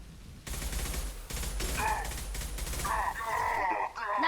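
Sustained suppressing gunfire in Mass Effect 2, a rapid fusillade of shots crackling over several seconds with grunting voices and game sounds mixed in.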